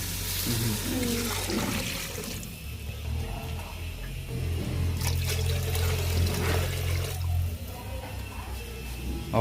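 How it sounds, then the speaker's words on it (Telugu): Water poured into a pot for cooking rice, a steady gushing rush lasting several seconds with a low rumbling tone, close by, while people talk over it. "కేజీ నా బియ్యంలోకి రెండు చెమ్మలు నీళ్ళు పోతున్నావు"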